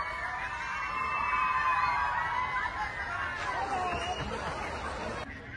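A crowd at a Republic Day celebration in Dibrugarh cheers and shouts in welcome, a bright mass of raised voices with children's cries, fairly close and sustained before dropping off near the end.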